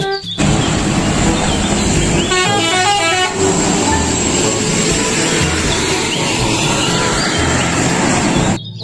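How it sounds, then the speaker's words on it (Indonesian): A telolet bus horn sounds loud and close, a bright run of rapid melodic toots in the middle, with a steady high tone and engine rumble around it throughout. "Yang ini ada mobil bus telolet."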